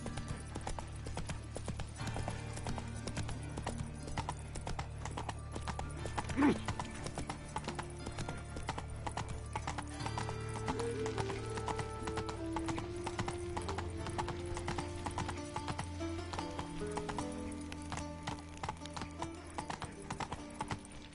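A horse gallops in the video game The Witcher 3, with a continuous rapid clip-clop of hooves over a low, steady game background.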